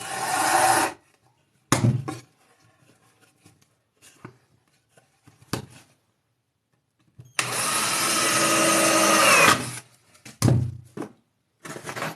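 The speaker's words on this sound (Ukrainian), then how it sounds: "Чому свердлю отвори?" A power drill bores holes in a wooden jig for beehive frames, two long bursts of whining drilling separated by quiet handling knocks and thuds.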